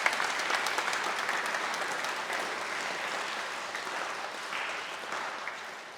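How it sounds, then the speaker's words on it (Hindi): Audience at a talk with a UPSC ranker applauds loudly and steadily for the full stretch, a dense wash of many hands that tapers slightly at the end. "मैं चाहता हूं एक बार जोरदार तालियां आप साहिल के लिए दीजिए"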